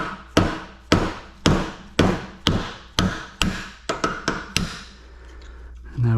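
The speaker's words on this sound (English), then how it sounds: "take a 1/2 inch socket and just start tapping the sleeve out of there" A 1/2 inch socket is struck repeatedly to drive a stuck bearing sleeve out of a 2011–2014 Mustang front lower control arm, giving about eleven sharp metallic knocks, steady at first and then quicker, loud and close.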